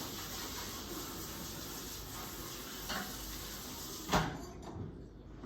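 A spatula scrapes and smears cold chocolate, a continuous soft hiss of friction with a couple of sharper scuffs near the end.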